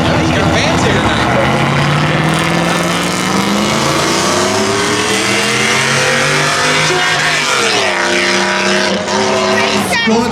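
A pickup truck at a spectator drag race at Beech Ridge roars loud and close, its engine pitch climbing, dropping and climbing again as it shifts through the gears, with a voice talking over the noise.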